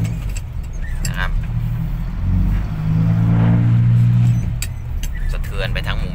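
A car engine revs loudly while driving through a village, a deep roaring rumble that swells in the middle and fades, with someone talking over it.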